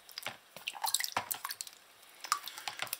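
Water dripping and splashing over a tightly sealed 18650 battery box with toilet paper inside, imitating rain; irregular close drips and small wet splashes, quiet, with brief pauses.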